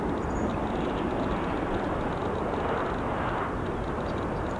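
United Airlines jets, including a new-livery 737 MAX 9 and a 757 from San Francisco, on the runway at Chicago O'Hare, giving a steady broadband engine roar at moderate distance that holds unbroken throughout.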